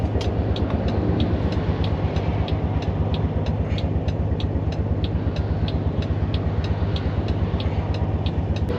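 A BMW F10 with an N55 engine misfires steadily and breaks up under load, with an injector 1 fault. The rough, choppy engine note stutters on in a rapid, even rhythm close by, with no talk.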